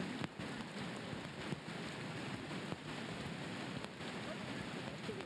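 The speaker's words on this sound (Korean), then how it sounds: "굉장히 많은 양의 비가 흘러내리면서 이게 그린이에요" Heavy rain pours down in a dense, constant hiss over a Korean golf course during a KPGA tournament halted by a sudden downpour, filling the air without letup.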